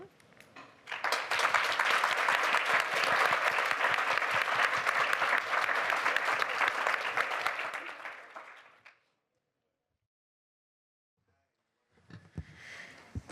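A full audience breaks into sustained applause at a panel event on equitable climate resilience, loud and dense for about eight seconds before cutting to silence, then a brief quieter burst of clapping returns near the end.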